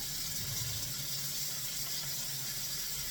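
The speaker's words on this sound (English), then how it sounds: "Let me get the warm water here." Warm water running steadily from a kitchen tap into a container for calzone dough, a continuous, even hiss from start to finish, close and with no speech.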